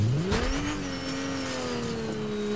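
A fast car in the Fortnite video game revs its engine and climbs in pitch, then holds a steady high drone, loud and close, with faint tire squeal and no talking.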